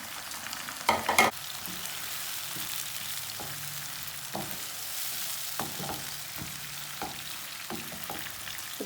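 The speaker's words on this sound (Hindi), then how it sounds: "टमाटर डाल के ना 3 मिनट तक ना पका लेना।" Tomatoes and green chillies added to browned onions frying in a pan, a soft steady sizzle with intermittent scraping taps of a spoon stirring, quiet and close.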